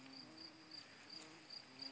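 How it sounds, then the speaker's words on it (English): Insect buzzing among bee balm flowers in a prairie meadow: a steady, faint, high drone with small regular pulses, heard alone over quiet outdoor background. "Here's a busy bee"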